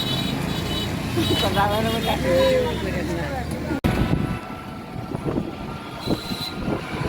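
A train passes a railway level crossing on a road, its rumbling rolling stock and wheel noise rising under a person's nearby talk, then continuing more steadily with traffic after a sharp break.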